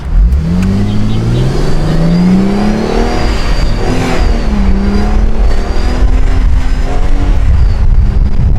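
A 15-year-old mini supercar accelerates hard in first gear, its engine note rising loud and close in a continuous sweeping rev, with a brief dip around the middle before climbing again.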